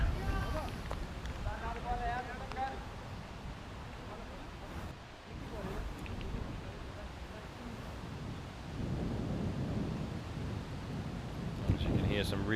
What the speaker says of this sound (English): As you can hear, some really windy conditions